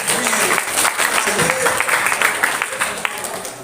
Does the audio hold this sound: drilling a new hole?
no